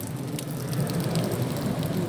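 Heavy rain pours steadily during a severe storm with strong winds in Atlanta, a dense continuous wash of noise with no pauses.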